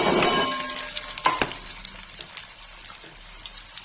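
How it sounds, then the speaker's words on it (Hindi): Onions dropped into hot oil in a pan, a loud sizzling burst at the start that settles into a steady frying hiss with a couple of sharp clatters; no talking. "देखिए गाइस तेल गर्म हो गया, सब प्याज डाल"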